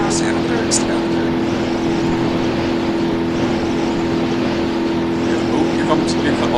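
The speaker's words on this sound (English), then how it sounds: "Oh, you already hear the bearings gone." Car engine at full throttle with failing bearings in the BeamNG driving game, a loud, steady drone with a constant tonal hum, rough grinding texture and faint high squeals throughout.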